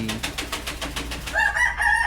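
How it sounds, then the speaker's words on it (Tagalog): A rooster crows nearby, loud and clear, with a rhythmic clucking lead-in rising into the drawn-out call. "mga manok na to. O basta may manok dyan sa gilid ko"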